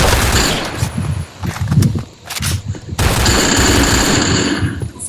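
Automatic gunfire from the online shooter game PointBlank rattles out in loud, dense bursts, with a brief lull near the middle before a sustained stream of shots resumes.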